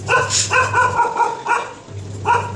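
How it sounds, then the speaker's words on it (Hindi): Dogs bark in a foggy, cold residential spot, probably at a passing scrap collector. Repeated loud, close barks and yips come in an irregular run, with no speech over them. "ये डॉगी भौंक रहे हैं यहाँ पे"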